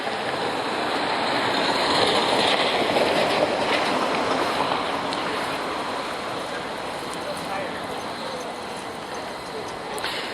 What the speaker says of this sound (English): The 504 King Street streetcar runs along here.